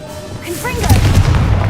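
Confringo blasting spell cast in Hogwarts Legacy, a loud booming blast with a rumbling low tail following short magical swishes, filling the clip.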